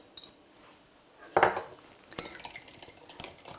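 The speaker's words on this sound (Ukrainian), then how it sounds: "Перемішую добре." A few clinks and scrapes of a utensil against a bowl, with short taps spread over a few seconds, close by and without talk.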